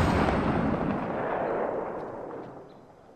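A heavy burst of gunfire in the video game Apex Legends, a loud booming blast whose rumbling tail decays steadily over about three seconds, with no talking.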